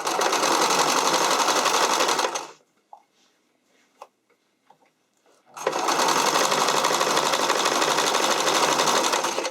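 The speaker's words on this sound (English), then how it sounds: "I'm aiming so that the left side of the zigzag is hitting just on the outside edge of the elastic" A sewing machine runs zigzag stitching over armhole elastic in two loud, steady bursts of rapid whirring and clatter, with a quiet pause between them holding faint small clicks and handling sounds.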